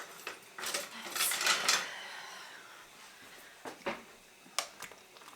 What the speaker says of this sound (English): Give her a mix, because we actually haven't stirred this in a while.